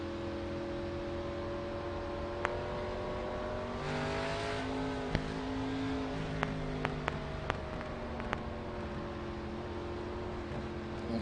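Several race cars in the iRacing sim at Pocono Raceway roll off behind a pace truck with steady layered engine drone, rising as they accelerate onto the track, with a few sharp clicks scattered through.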